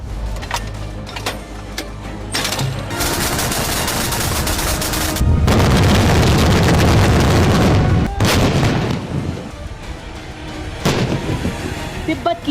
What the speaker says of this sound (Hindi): तिब्बत की बर्फीली वादियों में चीनियों ने खूब गोलियां बरसाईं, मिसाइलें उड़ाईं, बारूद बरसाया।